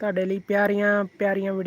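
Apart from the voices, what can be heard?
No everyday noise stands out behind the speech.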